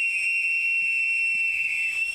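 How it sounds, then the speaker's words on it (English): A single sustained, shrill whistle blast during an outdoor search-and-rescue exercise, held steady and loud for the whole moment with faint background noise. "Johnny, that idea of your whistle blast might be a go, eh?"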